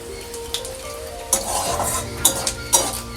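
Whole cumin, dried chillies and bay leaf sizzling in hot oil, a close crackling hiss broken by several sharp metallic clinks of a spoon against the pan, with no talk.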